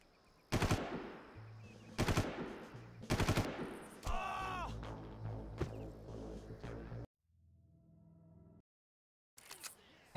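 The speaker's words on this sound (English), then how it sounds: "How does he shoot while being shot?" Gunfire in the video game Far Cry: several sharp, loud single shots and short bursts, followed by a stretch of mixed game effects, a sudden silence, then another shot at the end.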